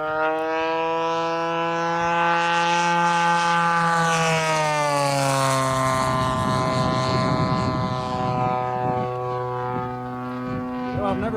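Engine of a Top Flite giant P-40 radio-controlled plane with rear exhaust revved up, a loud steady buzzing drone whose pitch climbs and then drops as the throttle changes, continuous and close, with some talk over it.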